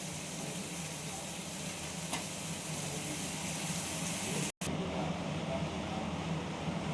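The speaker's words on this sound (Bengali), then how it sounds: "এবার আমি এটা একটু নেড়ে চেড়ে নামিয়ে ফেলবো।" Steady broadband sizzle of morola fish chachori cooking in a pan as it is stirred, continuous and fairly close, with a brief dropout near the end and no talking.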